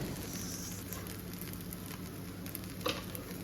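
Steady soft sizzling of masala frying in a pan as idli pieces are stirred in, a continuous low crackle at modest volume with one brief clink near the end.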